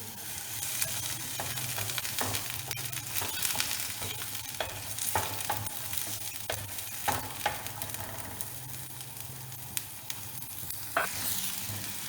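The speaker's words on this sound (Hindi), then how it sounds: "अब हम इसमें प्याज डाल के हल्के से फ्राई करेंगे।" Chopped onions sizzle lightly in a pan for a vegetable cheese omelette, a steady soft frying hiss with occasional clicks of stirring, close and alone throughout.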